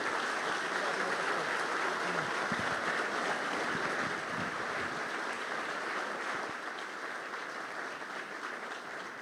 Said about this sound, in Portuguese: Vamos aplaudir ao Senhor, louvando a Deus.